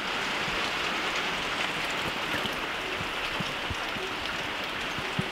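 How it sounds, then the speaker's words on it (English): Monsoon rain falling on outdoor rainwater harvesting totes, a steady close hiss of rainfall with scattered drips and small taps on the containers throughout. "And it's just been raining for a little bit here."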